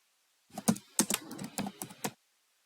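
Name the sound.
typing a company name on a computer keyboard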